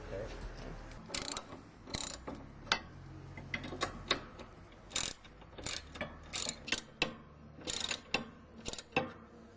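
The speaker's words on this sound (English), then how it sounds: "You will need to use a ratchet extender to reach and loosen these bolts." A ratchet wrench on an extender clicks in repeated bursts while loosening the azimuth lock bolts on a VSAT satellite dish bracket, sharp close ratcheting strokes with short pauses between.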